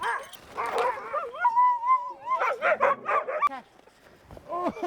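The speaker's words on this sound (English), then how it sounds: "His spare time consists of just two things: huskies and dog sleds." Sled huskies bark, yip and whimper up close in a lively burst, with a drawn-out whining note in the middle and a couple of brief yelps near the end.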